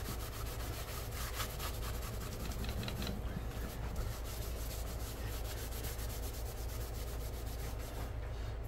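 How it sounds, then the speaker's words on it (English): Antique finish being scrubbed into a tooled leather acorn and oak leaf belt, a steady, close rubbing and brushing texture that runs continuously without talk. "And then start scrubbing."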